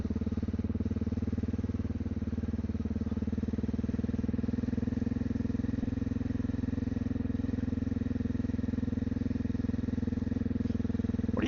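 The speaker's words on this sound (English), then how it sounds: "Riding the old xr650l today." A Honda XR650L motorcycle ridden in the Ozarks, its engine a steady, close, unbroken drone with a low thrum and no change in pace, and no voices.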